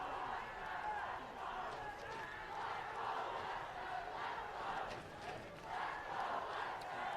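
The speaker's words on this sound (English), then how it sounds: "Listen to the crowd, man" High school football crowd at a Huntington Beach vs Western game roaring on a fourth down, a distant, rolling wall of cheering and shouting that swells and dips with commentators talking faintly over it.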